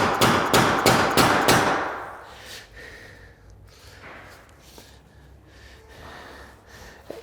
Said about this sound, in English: we're going to take a rubber mallet, make sure that all the joints are nice and tight